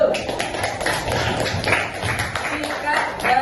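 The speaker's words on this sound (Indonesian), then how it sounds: "Baik, tepuk tangan dulu." An Indonesian classroom claps together: a run of sharp hand claps and taps, mixed with chatter and talk in the room.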